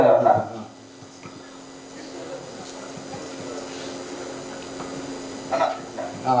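A dog gives a few short barks, one near the start and more toward the end, against a steady low background hum.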